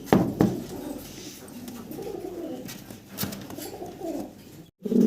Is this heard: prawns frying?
no